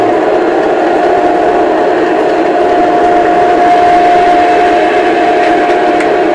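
A Milwaukee Road model train fitted with an onboard sound system rolls through a layout, a steady rumbling hum with a sustained tonal whine running throughout.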